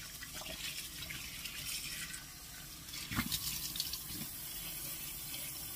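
Water runs from a tap into a sink while a clay mask is rinsed off, a steady soft rush with a few brief splashes, fairly quiet and without talk.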